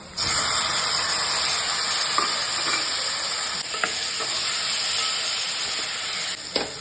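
Tomatoes go into browned onions frying in a pan, bringing a steady, fairly loud sizzle and hiss with a few soft stirring clicks throughout.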